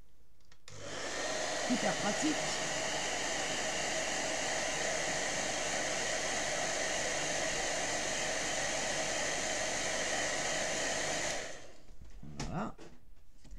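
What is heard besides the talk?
hair dryer running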